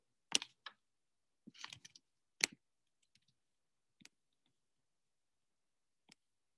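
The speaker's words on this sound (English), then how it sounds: "Right click, click copy, come over to your end of module task, right click, and paste." A computer mouse clicks a handful of times while copying and pasting text, sharp isolated clicks spaced unevenly with quiet gaps, close and otherwise silent.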